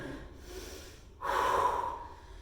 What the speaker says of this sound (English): You want to be nice, deep breathing the whole time.